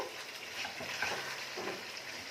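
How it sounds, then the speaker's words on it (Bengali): Spices sizzle softly in oil in a pan over a medium flame while being stirred for a coconut chicken curry, a faint steady frying hiss with light scraping, no voices. "দিয়ে এগুলোকে 1-2 মিনিট একটু ভালো করে নাড়াচাড়া করে দিচ্ছি"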